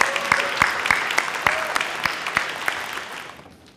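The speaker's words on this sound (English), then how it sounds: "Everyone give her a round of applause" An audience at an NJPAC awards event claps for the executive director, dense steady applause with sharp individual claps standing out, fading away toward the end, close and moderately loud.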